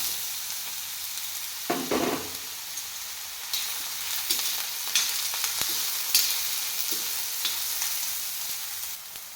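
Chopped ridge gourd fries and sizzles in a pan, stirred now and then with scraping clatters over a steady close hiss.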